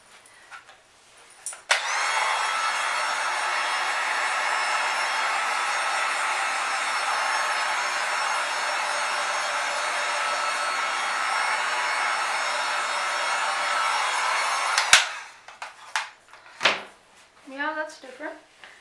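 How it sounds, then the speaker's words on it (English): A heat gun blows over an acrylic paint pour on a vinyl record, a loud steady whirring hiss running about thirteen seconds alone before it clicks off, followed by light handling noises and brief voices. "I'm actually gonna use a heat gun on that, see what happens."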